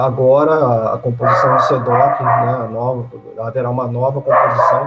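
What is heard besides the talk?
dog barking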